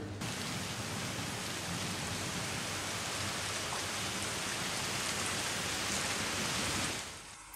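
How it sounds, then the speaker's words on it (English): Steady, dense rain pours down in a SKAM France scene, a loud continuous hiss that holds evenly for several seconds before fading out at the end, with no voices. "It's raining."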